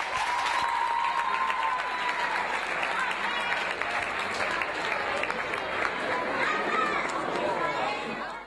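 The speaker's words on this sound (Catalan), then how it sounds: "Un fort aplaudiment per a aquest grup de xics i xiques de segon d'ESO amb el seu remix." An audience at a youth festival in Alcalà de Xivert applauds a group of second-year secondary school students after their dance remix. The clapping is loud and sustained, mixed with crowd chatter and voices.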